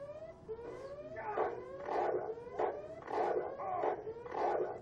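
Aggressive dog attack in the PC game Deus Ex: a run of five or six rough barks and yelping snarls, evenly spaced and close, layered over a sustained humming tone from the game.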